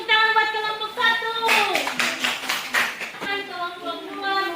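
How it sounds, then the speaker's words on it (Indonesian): Classroom clapping for a student group, a short burst of hands clapping from a small group, under and between children's and a teacher's voices. "Tepuk tangan buat kelompok satu."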